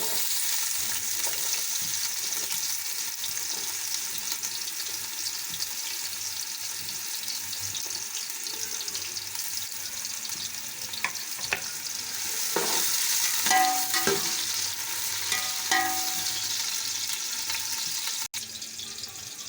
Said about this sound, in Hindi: तेल गर्म हो चुका है, अब हम इसमें प्याज शामिल करते हैं।